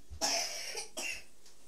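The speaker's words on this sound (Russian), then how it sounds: "ну и кашляете" Someone indoors gives two dry coughs in quick succession, fairly close to the microphone but quiet, with no talking over them.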